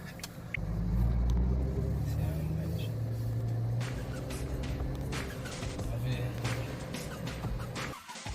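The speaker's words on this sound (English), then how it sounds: "The response when you press on the accelerator is absolutely magnificent. Listen to that." A Suzuki Jimny engine pulls under the accelerator with a steady low rumble that swells early and then holds, heard from inside the vehicle, while a voice talks faintly over it.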